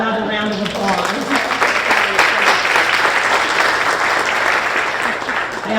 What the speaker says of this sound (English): Let's give Michelle another round of applause.